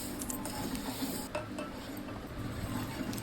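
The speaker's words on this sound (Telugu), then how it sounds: "ఇవన్నీ మంచిగా కలిపేసుకోవాలి." Ravva laddu mixture of semolina and fried grated coconut is stirred by hand in a pan, with a steady close scraping and rustling texture and light clinks of the utensil against the metal.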